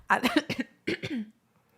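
A single person coughs close to the mic in two quick bursts, the first a rough double hack and the second shorter and throatier, followed by near silence.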